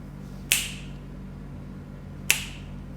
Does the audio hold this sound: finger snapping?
yes